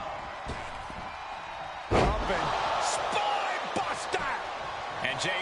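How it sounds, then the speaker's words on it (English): Ambulance doors slamming shut in a WWE 2K24 ambulance match, heard as one loud, sharp slam followed by smaller knocks and thuds, with commentary talk running over it. "Get them in the ambulance and slam the doors."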